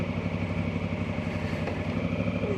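Motorcycle engine in a town street, a steady throbbing mid-pitched drone with regular pulsing, moderately distant and continuous.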